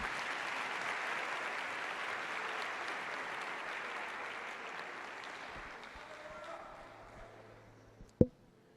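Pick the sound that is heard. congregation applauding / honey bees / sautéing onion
congregation applauding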